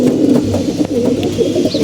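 Loud, close cooing of moulting Shapchila pigeons kept in a loft during the rainy season, several overlapping throaty rolls running without a break.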